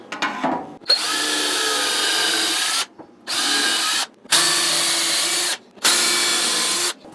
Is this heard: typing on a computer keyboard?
no